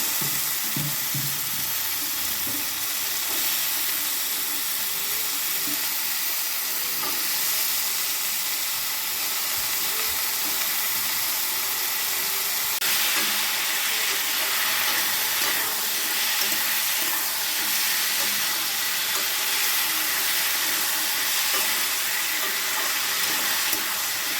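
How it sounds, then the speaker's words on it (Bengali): Potatoes sizzle loudly in hot oil in a pan for a Bengali prawn and potato curry, a dense steady hiss that persists throughout with no talk. "এই আলুগুলো দিয়ে দিচ্ছি"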